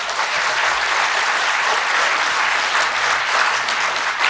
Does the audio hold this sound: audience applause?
yes